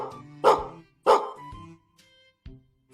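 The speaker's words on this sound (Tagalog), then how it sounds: "Nako, na-record ang tahol ng aso, Abudo." A dog barks twice in quick succession, loud and close, followed by a softer short yip after a pause.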